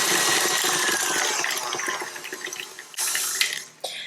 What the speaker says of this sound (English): add the softened butter at room temperature into a stand mixer bowl. I'm using a paddle attachment